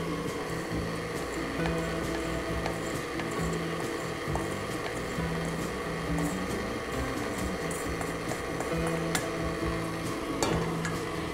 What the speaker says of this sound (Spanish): el volumen de nuestra batidora para que se vuelva a incorporar el azúcar perfectamente